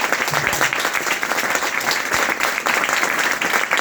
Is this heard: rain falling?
no